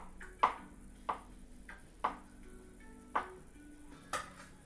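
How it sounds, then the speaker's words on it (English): Mushrooms are chopped with a knife on a board in five crisp, evenly spaced knocks, close and distinct against quiet background hum. "I'll start chopping these up."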